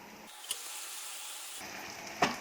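Ginger and garlic browned in oil sizzle steadily in a pan as roasted spice paste goes in, with brief louder hisses and stirring clatter near the start and end, and no voices.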